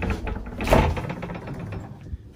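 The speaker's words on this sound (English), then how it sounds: "Let's see if this door's open." Old door in an abandoned coast guard training building being pushed open, a scraping creak that swells to a rough grinding peak, then fades into faint rattling and a small knock.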